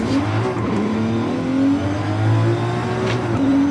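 A Cadillac CTS-V engine in Forza Horizon 5 revs and accelerates with a steady, climbing drone and small shifts in pitch, loud and continuous with no talk over it.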